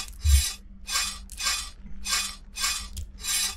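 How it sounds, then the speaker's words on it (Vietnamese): Repeated sawing strokes on a padlock in a Vietnamese horror video game, five or six loud rasping back-and-forth passes in a steady rhythm with brief gaps between them, no talk over it. "Sắp cưa được ổ khóa rồi."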